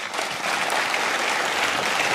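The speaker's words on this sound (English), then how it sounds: "Let's give her a round of applause to thank her." Audience applause at an opening ceremony for a world news media congress and press freedom award, thanking a speaker; a steady, dense wash of clapping from a large hall crowd.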